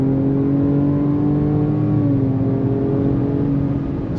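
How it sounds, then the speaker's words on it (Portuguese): A Ford Ranger Raptor pickup kicks down through the gears, its engine note climbing in a steady, loud rev that holds close and continuous for a few seconds with no talking. "olha um kickdown aqui, ó. Vamos ver a resposta dela. Oitava, sétima marcha. Foi pra terceira, ó."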